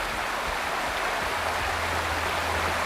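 A waterfall in the Wuthering Waves video game rushes in a continuous, even hiss of falling water, loud and steady throughout with no voices.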